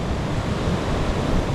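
Ocean waves break and roll at a surf beach in southern Portugal, a loud, continuous roar of surf mixed with gusty wind buffeting the microphone, no talking.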